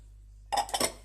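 Brief clinks of a utensil against a bowl as two flours are stirred together for focaccia dough, close and fairly soft, heard alone after a moment of quiet.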